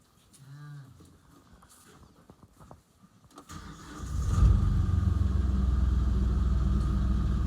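A farm tractor engine cranks and catches in sub-zero winter cold on a dairy farm, settling into a loud, steady low rumble after a few quiet seconds of shuffling and a brief voice.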